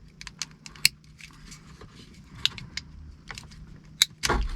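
A connector is unplugged by hand from the hazard warning button of an Audi A1 8X, giving small scattered plastic clicks and light rattles, then a louder rustling scrape at the end.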